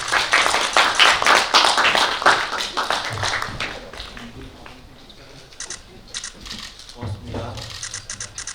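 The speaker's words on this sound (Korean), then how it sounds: "박수 부탁드릴게요." A burst of clapping from a small group at a film press screening, brisk and close, fading out after a few seconds into light tapping and shuffling noises.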